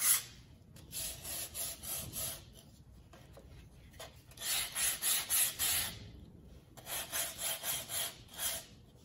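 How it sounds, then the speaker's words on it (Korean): Sandpaper rubs the edges of a pine wood clock face in repeated rhythmic strokes, raspy bursts coming in quick runs with short pauses between them, close and clear. "소나무 시계판을 사포로 모서리 부분을 예쁘게 사포질을 해줍니다."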